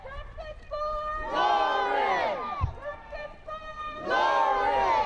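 Marchers fill a street with loud, rhythmic group chanting, the shouted phrases rising and falling in repeated waves, with cheers and voices layered throughout.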